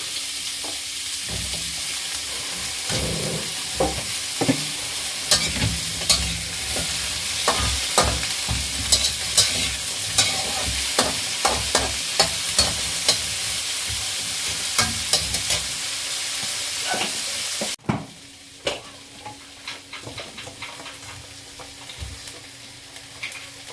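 Okra stir-frying in a pan for a Filipino vegetable dish, a steady sizzle with repeated scrapes and clacks of stirring that drops off sharply near the end.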